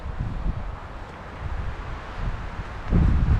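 Gusty wind buffets an outdoor microphone on a wooded disc golf course, a steady low roar that swells louder near the end, with no talk.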